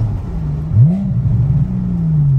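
Car engine with a raspy, husky tone, a deep close rumble that rises briefly in a quick rev and then settles into a steady throaty drone.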